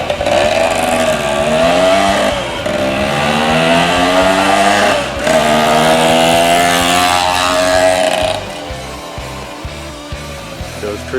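A 1979 Kawasaki KM100 motorcycle engine runs loud and steady close by, revving up and down in a continuous drone and easing off toward the end.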